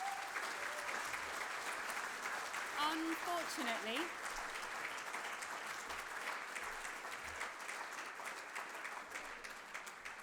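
Audience applause at a student achievement awards ceremony as the winner is announced, sustained clapping from a hall full of people throughout, with a speaker's voice over it.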